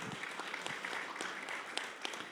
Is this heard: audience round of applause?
yes